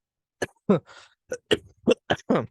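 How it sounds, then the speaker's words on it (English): A series of short, sharp coughs in quick bursts, close and fairly loud, with brief pauses between them and no speech. "really sorry about the cough"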